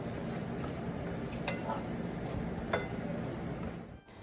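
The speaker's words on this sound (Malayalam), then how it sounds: "ഇനി ഇത് നമുക്കൊന്ന് നന്നായിട്ടൊന്ന് ഫ്രൈ ആക്കിയെടുക്കാം." Prawns frying in a pan, a steady close sizzle with faint stirring clicks running throughout and easing off near the end.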